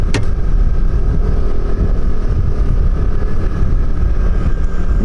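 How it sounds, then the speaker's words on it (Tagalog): Several motorcycles, four in all, ride along a good paved road near the highway on the way into Sapong Spring, their engines a steady, close, continuous drone with wind buffeting the microphone throughout. "4 na motor pala kami"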